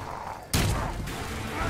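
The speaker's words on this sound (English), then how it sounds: "Boomstick, clearly best weapon" The boomstick shotgun in Evil Dead: The Game fires once as a single sharp, loud blast that decays over about half a second.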